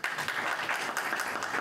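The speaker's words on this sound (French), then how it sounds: "Applaudissez madame, s'il vous plaît." An audience applauding at a live show, dense continuous clapping at moderate volume with no voices.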